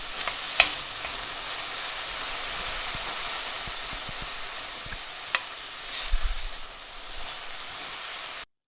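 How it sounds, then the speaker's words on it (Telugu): Garam masala and salt frying on a low flame in a pan for masala pasta, a steady close sizzling hiss with a few sharp crackles and light stirring scrapes throughout, no voices. "వీటన్నిటిని లో ఫ్లేమ్లో పెట్టి 30 సెకండ్స్ ఫ్రై చేయండి."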